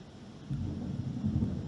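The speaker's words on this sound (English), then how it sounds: "It just started raining." Low, steady rumble of rain with deep thunder rolling underneath, swelling slightly midway and holding broad and continuous throughout.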